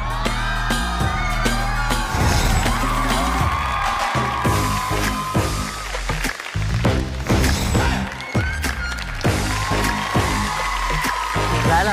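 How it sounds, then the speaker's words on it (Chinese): On a Chinese outdoor variety game show set, a crowd shrieks and whoops in bursts over loud background music, the excited screams rising and falling across the stretch. "来了，听到尖叫了。"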